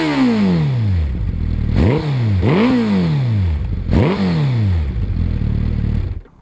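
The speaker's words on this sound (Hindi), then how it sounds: "इसको स्टार्ट करके थोड़ा सा एग्जॉस्ट नोट मैं आपको सुनाता हूँ" A Suzuki Hayabusa with a Yoshimura exhaust roars loudly up close, and three sharp revs rise and fall over a deep rumbling idle before the engine cuts off.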